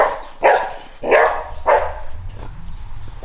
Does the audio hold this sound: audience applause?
no